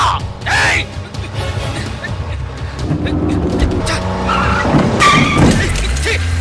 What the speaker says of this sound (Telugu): అన్నా బండి ఆపాలా? సరిపోతున్నా పోనీ స్పీడ్ గా పో అన్నా